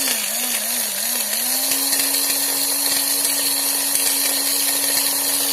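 A homemade mini 12V hand drill runs steadily with a high, buzzing whine, loud and close, with its pitch wobbling briefly at first before holding constant.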